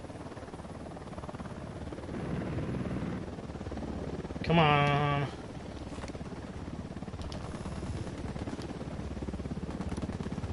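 A helicopter in the video game Ghost Recon Wildlands, its rotor chopping in a steady, moderately loud drone throughout, with a brief louder tonal burst near the middle and a short spoken remark.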